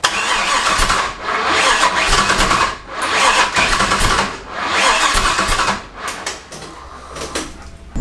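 A Toyota Tacoma pickup with a swapped-in LS V8 engine is cranked in repeated failed start attempts. Loud bursts of grinding cranking come in rhythmic waves, with brief pauses between them, and nobody speaks.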